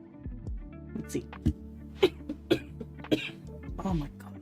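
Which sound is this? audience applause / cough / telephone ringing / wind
cough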